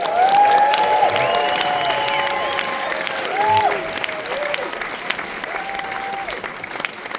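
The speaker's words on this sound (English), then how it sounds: "You gotta get the big boom of applause going" Studio audience at a television talk panel applauding and cheering, a dense steady roar of clapping with whoops and shouts rising over it, loud and close, tapering slightly toward the end.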